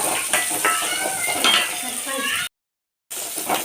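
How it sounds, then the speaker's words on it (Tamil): Handful of chopped onions sautéing and sizzling in a pan for a water-spinach (saranai keerai) stir-fry, with steady close frying hiss and a few stirring scrapes, briefly cut to silence near the end. "ஒரு கைப்பிடி வெங்காயம் அரிஞ்சதை இதில் சேர்த்திடலாம்"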